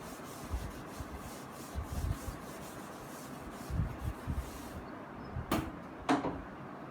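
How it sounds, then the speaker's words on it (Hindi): A table of values rubbed out on a board, heard as soft, close rubbing and wiping strokes in uneven bursts, ending with two sharper scrapes. "अब मैं इस टेबल को रब कर रही हूँ।"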